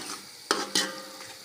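Minced chicken fries with spices steadily in a hot pan, a continuous frying hiss broken by two short, sharp bursts of stirring or scraping.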